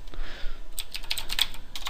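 Light clicking keystrokes on a computer keyboard as a search term is typed, a short cluster of taps over steady background hiss with no speech.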